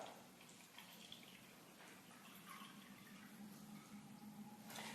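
Untouched tap water is poured from a glass into a cup, giving a faint, steady trickling splash that runs for several seconds against quiet room noise.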